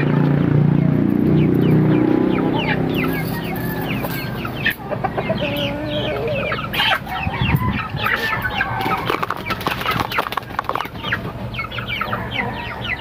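Rhode Island Red and native chickens cluck steadily at feeding time, a busy flock close by with overlapping short clucks and calls, loud and continuous with no talking.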